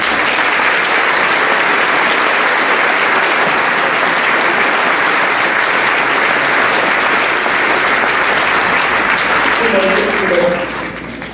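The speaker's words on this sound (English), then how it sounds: "Please give them a round of applause." Sustained loud applause from a graduation ceremony audience honoring National Honor Society members, dense and even for about ten seconds before trailing off at the end.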